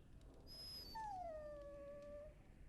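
A warhound in Dragon Age: Origins lets out a single drawn-out whimpering howl, a high tone sliding down and holding, faint and alone.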